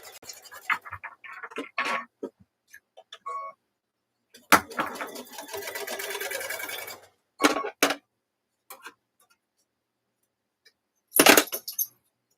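A sewing machine stitches down a fold of quilt block fabric. Scattered soft clicks and rustles lead into a steady whirring run of a few seconds, followed by sharp isolated knocks and long silences.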